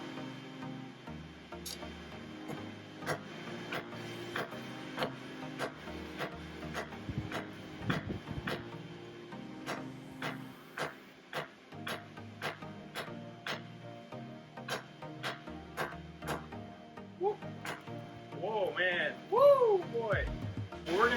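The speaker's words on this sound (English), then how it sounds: "So we're gonna pound away at it." Hot rebar strips are pounded with a hammer, making a long series of sharp metallic strikes in a fairly steady rhythm, close and clear, with brief speech at the end.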